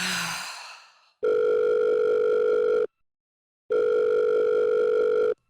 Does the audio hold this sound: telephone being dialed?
yes